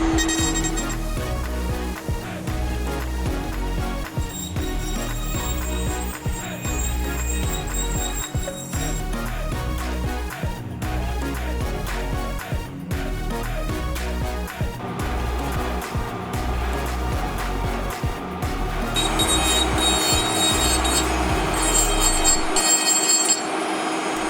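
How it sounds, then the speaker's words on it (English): Brushless micro motor spinning near 50,000 RPM while carving fine detail into a wooden crow sculpture, a continuous high dentist-drill whine with grinding texture that holds steady and loud throughout. "Now I've switched over to a brushless micro motor for some of the finer carving."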